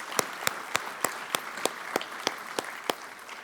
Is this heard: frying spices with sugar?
no